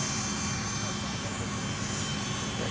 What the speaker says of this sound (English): Got a Delta 717 that's making the right-hand turn, joining Taxiway Whiskey.